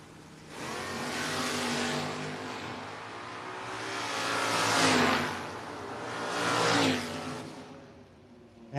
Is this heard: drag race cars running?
yes